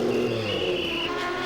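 A Porsche sports prototype accelerates out of the pits to rejoin a 1990 World Sportscar race at Suzuka, its engine note rising and revving loudly before easing slightly as it pulls away.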